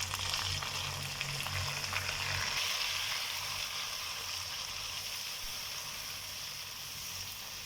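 A large tomato goes into ginger-garlic paste already frying in a pan for an aloo and mongre curry, giving a steady, close, continuous sizzle that softens slightly after a few seconds, with no talking.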